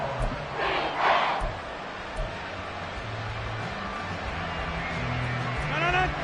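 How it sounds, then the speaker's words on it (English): Stadium crowd in a Madden 24 football game, a broad steady roar with swelling cheers while a commentator talks over it. "this crowd is making an impact right now"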